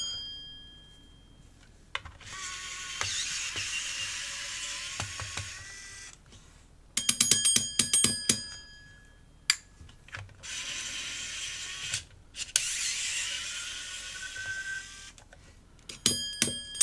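A power screwdriver backs screws out of a PlayStation controller in several whirring bursts separated by short pauses, with rapid ratcheting clicks in between, close up and with no talking.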